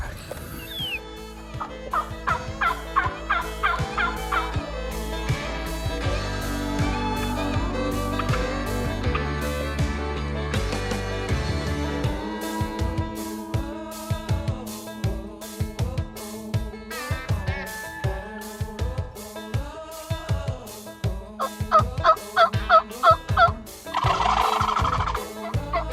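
Wild turkeys in Colorado gobble loudly in rapid, repeated bursts, the calls coming in clusters with short gaps between them.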